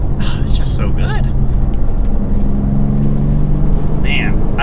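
Twin-turbo engine of a 2023 BMW M2 pulling steadily from inside the cabin, a low continuous drone with rising harmonic tones, loud and constant as someone talks over it.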